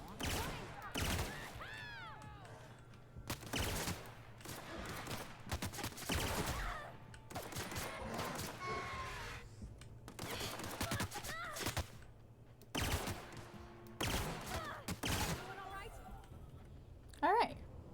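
Gunfire from a weapon in The Outer Worlds, loud sharp bursts of shots repeating across the span in clustered volleys, mixed with game effects and a voice talking over much of it.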